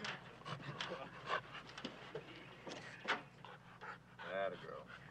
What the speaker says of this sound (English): Stay. Good dog.